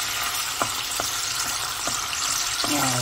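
Boiled onion frying in a pan with a steady broadband sizzle, broken by several soft stirring knocks spaced evenly through the clip, close by and without speech.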